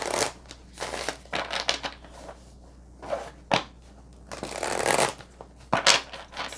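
Tarot cards being shuffled and drawn from a deck, a run of crisp riffling bursts and soft papery slaps at close range, several separate flurries with short quiet gaps between them and no talk.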